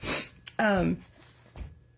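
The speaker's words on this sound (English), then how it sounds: "I'm going to sneeze, so I apologize for whenever it's going to come out." A single sharp sneeze with a quick gasping intake of breath before it, followed by a brief sniff, close up and fairly loud.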